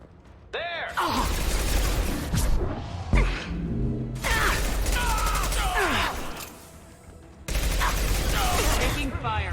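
Sci-fi gunfire from Mass Effect 2 rattles in heavy bursts with mechanical whooshes and sweeping effects between volleys, loud and busy, with a brief pause before the final burst.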